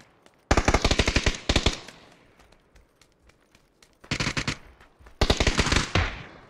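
Automatic weapon fire in PUBG squad gameplay: three sharp, close rapid-fire bursts separated by quiet gaps, each a tight string of punchy shots.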